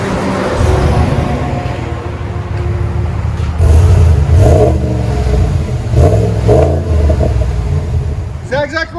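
A 2020 RAM 1500 with the 5.7L HEMI V8 and dual Flowmaster 40 series exhaust rumbles deep and loud, rising in several throttle blips, with people talking faintly over the engine.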